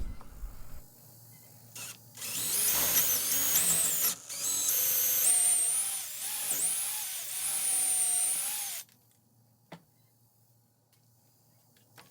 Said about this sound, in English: I made myself a quick jig to keep the drill bit straight and vertical.